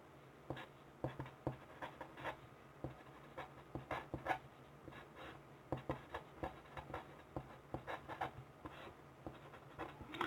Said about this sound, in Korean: 그림을 좀 그려볼게요.